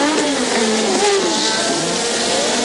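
Formula 1 cars from the 1986 season racing closely, engines droning loud and near with shifting high whining pitches as one car pulls out of another's slipstream to overtake.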